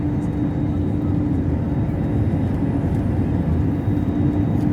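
Steady, loud engine roar and airflow inside the cabin of a SriLankan Airlines airliner climbing after takeoff from Bangalore, a continuous broadband drone with a faint tonal hum, no talk.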